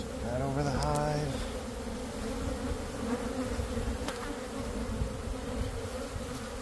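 Honey bees swarm around an open hive with collapsed comb during a bee rescue, giving off a dense, continuous buzzing drone that holds steady throughout.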